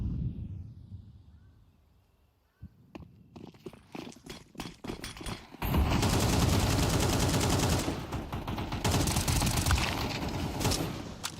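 Gunfire erupts in a shooter match, scattered single shots and footsteps at first, then a sustained heavy crossfire of overlapping bursts, loud and continuous toward the end.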